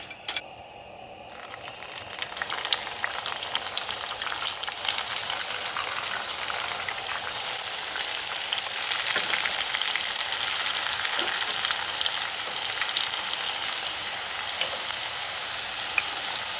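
Crab rangoon frying in about half an inch of cooking oil in a pan, a dense, steady sizzle with crackling pops that builds slightly louder partway through and holds close and continuous with no talking.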